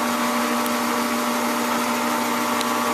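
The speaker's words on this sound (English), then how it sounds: "blow air down the muzzle. Clean some of those chips out." Compressed air blasts down a hunting rifle barrel muzzle to clear reamer chips in a gunsmithing shop, a loud steady rushing hiss with a constant tonal whine throughout.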